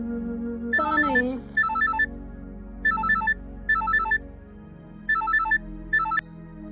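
A phone ringtone in a home rings in six short, repeating electronic melodic bursts with brief gaps between them, loud and close, with no voices.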